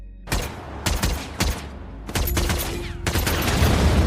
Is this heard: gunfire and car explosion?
yes